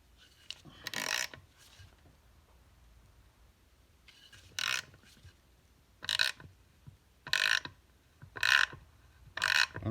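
A hand tap cuts new threads in aluminum for a Heli-Coil insert, giving short, bright ratcheting and scraping bursts that repeat in an uneven rhythm with quiet pauses between turns.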